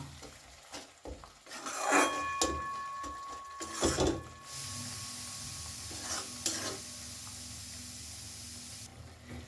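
Fried spice masala for a duck egg curry with hing tempering is stirred in a pan, with a few loud scraping strokes and clatters over a low background sizzle, then quieter stretches.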